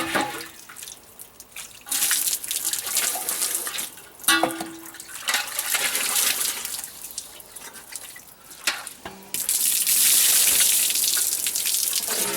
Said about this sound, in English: we can go ahead and top up our sink water a little bit.